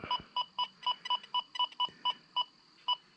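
An XP Deus 2 metal detector gives a series of about a dozen short, evenly spaced electronic beeps, crisp and fairly quiet, with two faint thumps near the start.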